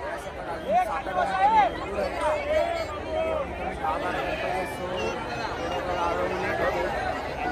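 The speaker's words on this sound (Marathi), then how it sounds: "बघू शकता भरपूर गर्दी आहे." A large crowd at the Lalbaug Raja immersion procession in Mumbai keeps up a dense, steady babble of chatter and calls, with a nearby voice talking over the noise throughout.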